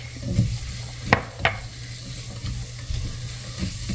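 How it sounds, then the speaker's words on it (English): Vegetables and garlic being sautéed in a pan, with a steady low sizzle throughout and a few sharp stirring scrapes near the start, no voices. "So let's saute this up for about 2 minutes."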